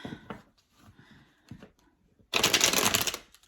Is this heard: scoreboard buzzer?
no